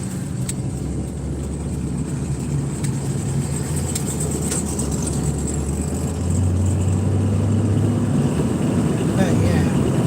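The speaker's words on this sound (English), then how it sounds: "Oh, that's that Corvette over there." A nearby Corvette's engine and exhaust rumble steadily, growing a little louder partway through, with a low droning tone under faint background noise.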